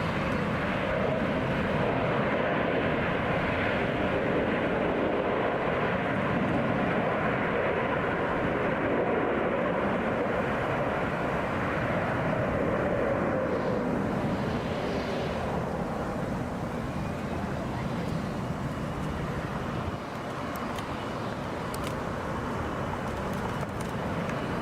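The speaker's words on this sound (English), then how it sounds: "Wheels up on Delta Airlines Flight 1683 to Chicago. O'Hare. Boeing 757." A Delta Airlines Boeing 757 climbs out after takeoff, already above 1,500 feet, heading for Chicago O'Hare from Atlanta's Hartsfield-Jackson airport. The jet engines give a steady, loud broadband roar for the whole stretch, with no talk.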